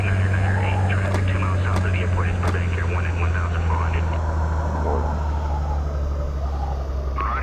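Aircraft engines in a video game drone steadily at a low pitch throughout, loud and continuous, with voices talking over the hum.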